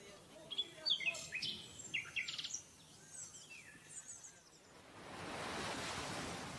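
Indian Ocean surf on the tropical Cambodian coast swells in as a soft, broad wash in the last seconds, after a stretch where birds chirp and tweet brightly over a quiet, faint background.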